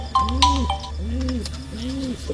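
Pigeons cooing while being fed grain, three repeated rounded coos in a steady rhythm, close and clear, with a few brief chirps and clicks at the start.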